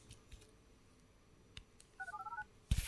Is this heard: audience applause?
no